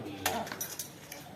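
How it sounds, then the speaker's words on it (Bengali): A child eats rice from a plate, giving a few light clinks and scrapes of tableware close by, with faint household noise behind them. "এখন ডোডো ভাত খাচ্ছে, দেখো থালা নিয়ে বসে পড়েছে আমার কোলে,"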